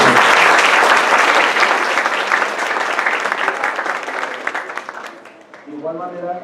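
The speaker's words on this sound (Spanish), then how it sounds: "Un fuerte aplauso, por favor." Audience applause at an academic event, a loud dense burst of clapping from many hands that thins out and fades, after which a voice starts speaking.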